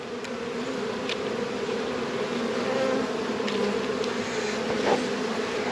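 Dense, steady buzzing of many honey bees swarming around an open hive, close and continuous with a few faint clicks.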